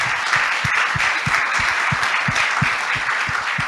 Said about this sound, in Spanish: Yo te invito a que le demos un aplauso al Señor